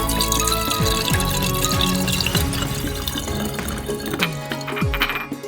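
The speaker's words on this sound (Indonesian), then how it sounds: "Tuang 2 botol alkohol dalam lampunya." Liquid poured from two bottles of alcohol into a handmade extractor, a steady close splashing fill with occasional glassy clinks and gurgles, continuous throughout with no voices.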